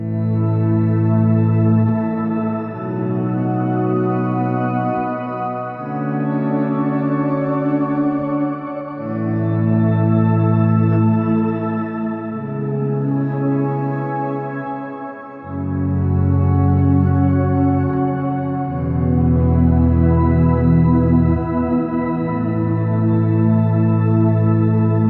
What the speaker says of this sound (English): And here it is with the shimmer reverb.